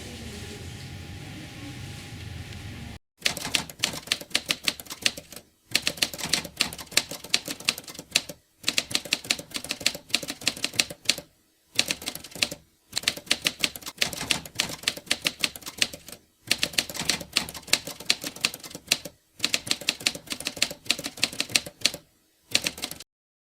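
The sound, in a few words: typing on a typewriter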